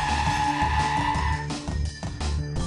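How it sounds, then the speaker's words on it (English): Tires skid and squeal as a car without ABS brakes hard from 70 km/h, a loud, close screech over a low rumble that falters midway and resumes briefly before the clip ends. "Full braking was done at 70 km per hour."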